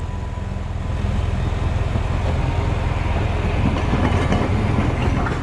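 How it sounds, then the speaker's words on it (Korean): A tram rolls along a street in Kumamoto, Japan, nearby with a continuous rumbling drone and faint clattering of wheels on rails, loud and steady throughout. "구마모토의 길 위에도 트램이 달리고 있었습니다."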